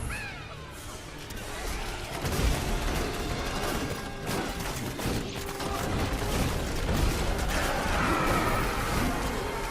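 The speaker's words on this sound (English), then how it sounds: "You get so many grenades." Dense, continuous bursts of explosions and clattering impacts from bouncing grenades in the video game Diablo III, a Demon Hunter build, with booms and crashes layered over one another throughout.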